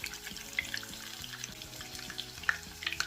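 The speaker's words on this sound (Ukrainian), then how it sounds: "Смажимо котлетки по 2-3 хвилини і з кожної сторони до золотавого апетитного кольору." Quiet crackling sizzle of meat patties frying in a pan, with scattered pops and faint clinks over a low background hum.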